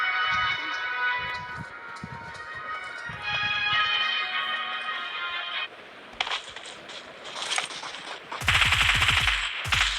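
Gunfire rattles out in PUBG amid a busy game soundscape, with scattered bursts of shots midway and a loud, close volley near the end.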